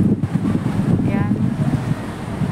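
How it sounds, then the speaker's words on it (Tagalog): Gusty wind at the Central Pier ferry terminal in Hong Kong buffets the microphone in a rough, continuous roar, with a watery, surf-like wash underneath. "Mahangin siya ngayon."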